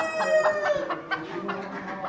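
A rooster crows among clucking chickens at a small animal show in Leingarten, the crow loud and close with drawn-out calls over a busy exhibition hall background.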